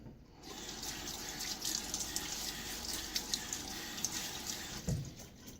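Water runs from a bathroom tap into a sink as a face is wetted before shaving, a steady close hiss with small splashes and a short thump near the end, no talking.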